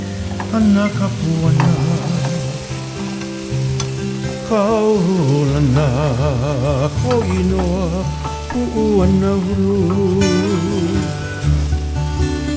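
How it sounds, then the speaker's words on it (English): Taro crumbs fry in a pan with garlic, a loud, continuous sizzle close by, running under melodic music throughout. "Let this fry up, and you're gonna make this real crispy."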